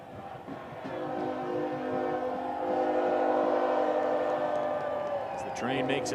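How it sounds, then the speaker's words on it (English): A train rolls past Keyworth stadium during a Detroit City FC soccer match, its horn sounding in long sustained blasts over crowd noise and commentary. "Train makes its way by here at Keyworth."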